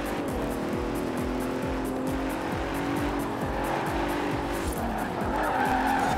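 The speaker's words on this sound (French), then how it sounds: "Oh, un petit drift." Sustained tire squeal from a car drifting in Forza Horizon 4, the screech running continuously over a loud, steady engine roar with rhythmic low pulses throughout.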